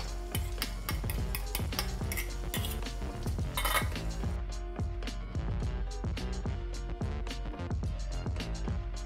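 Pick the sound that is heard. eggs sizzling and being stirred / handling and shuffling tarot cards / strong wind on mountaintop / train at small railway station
eggs sizzling and being stirred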